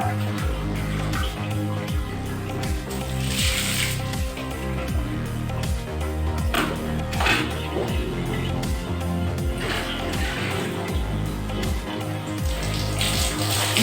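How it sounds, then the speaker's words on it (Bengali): Water poured over a baby boy's head during a bath, a steady close splashing and pouring that runs throughout with no breaks. "আবার মাথায় জল দাও আবার মাথায় জল দাও"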